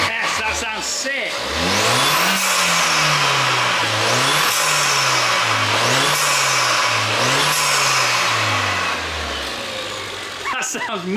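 Ford Fiesta ST180 engine with a new intake and air duct, revved repeatedly in a run of loud, close rising and falling sweeps, then settling back toward idle.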